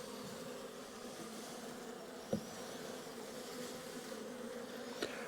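Agitated honeybees during a spring hive inspection, a steady dense buzzing that fills the whole clip at moderate level, with a couple of brief knocks standing out.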